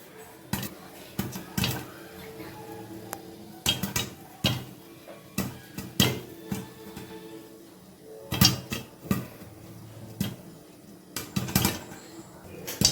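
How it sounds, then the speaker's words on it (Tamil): Popcorn kernels popping inside a covered pan: sharp, irregular cracks scattered throughout, sometimes bunched in quick clusters, fairly loud and close, with no voices. "பொரியிற சத்தம் நல்லாவே கேக்குது"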